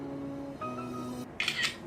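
A camera shutter fires once for a selfie during a makeup session, a short crisp click after a quiet stretch with a faint electronic tone.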